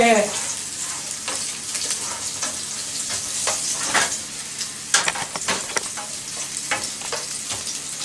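Turkey sausage browning in a hot pan produces a steady, close sizzle with occasional stirring and scraping sounds throughout.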